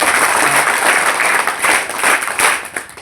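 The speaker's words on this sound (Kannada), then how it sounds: "ದಯಮಾಡಿ ಅವ್ರಿಗೆ ನೀವೆಲ್ಲರೂ ಕೂಡ ಒಂದು ಚಪ್ಪಾಳೆಯನ್ನು ಕೊಡಬೇಕು" An audience at a government school event claps in warm applause, a dense burst of many hands that swells and dips over a few seconds.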